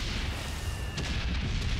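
Cannon fire in the Valiant Hearts video game sounds as a dense, rumbling burst of booming noise with a sharp crack near the middle, loud and continuous throughout the short stretch.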